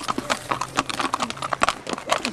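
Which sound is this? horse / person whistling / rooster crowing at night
horse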